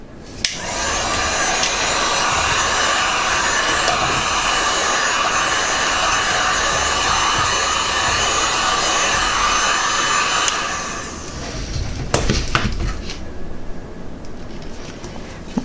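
A hot air tool heats holographic window film with a loud, steady blower roar for about ten seconds, then shuts off, leaving handling clatter and rustling. No one speaks.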